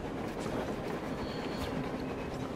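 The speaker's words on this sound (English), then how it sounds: "Big freight train." A big freight train rolls past in the video game Metro Exodus, a steady rumbling roar of rail cars and wheels, moderately loud and alone.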